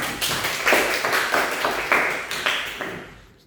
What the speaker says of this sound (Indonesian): tepuk tangan buat Tegar